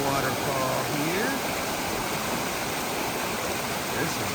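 Ivy Creek on the Appalachian Trail in Shenandoah National Park, water rushing over rocks at a small waterfall, a steady broadband roar close by, with faint voices in the first moments.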